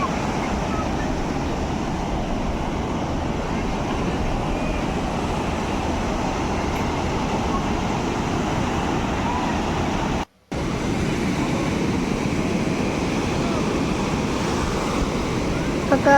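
Steady broadband rush of sea waves breaking on a beach, continuous and fairly loud with wind buffeting the microphone, briefly cutting out once midway.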